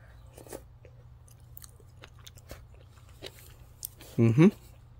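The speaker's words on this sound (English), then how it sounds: "let's try eating this gloopy stuff" Someone chews Australian greenlip abalone from Costco with faint, wet mouth clicks over a low hum. A brief voiced murmur comes near the end.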